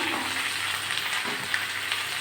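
Pointed gourd and potato fry in a pan with a close, even sizzle and soft crackle for a couple of seconds, nobody talking over it.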